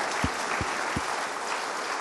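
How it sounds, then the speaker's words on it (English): An audience applauds at a game character creation presentation with Naughty Dog, a steady wash of many hands clapping at moderate distance, with a few low thumps near the start. "So one big round of applause for Alex Alvarez and the team that put all this together."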